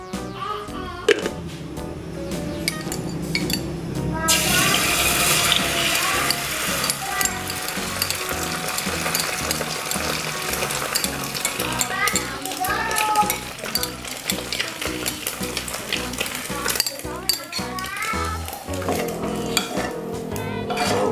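An egg frying in a little cooking oil, a loud bright spitting sizzle that swells after a few seconds, with utensil scrapes and clinks against the pan and occasional voices nearby.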